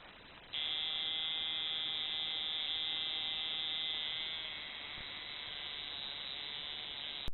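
A tattoo machine's steady electric buzz starts abruptly and holds at an even pitch, slightly lowering in intensity midway; close and continuous, no voices.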